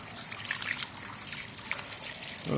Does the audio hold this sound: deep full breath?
no